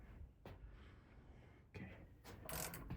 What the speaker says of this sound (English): Let me see if I can turn the vise a little bit.